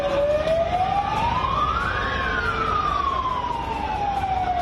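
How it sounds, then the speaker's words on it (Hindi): A police siren wails nearby during a street protest, its pitch sweeping up and then slowly falling, over a steady wash of street noise. "पुलिस के सायरन की आवाज भी आप सुन सकते हैं"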